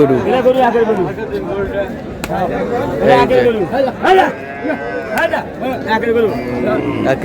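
Cows and a calf mooing repeatedly at Raniganj livestock haat in Dinajpur, a busy cattle market, with several close, drawn-out lows rising and falling over steady crowd chatter and nearby talk.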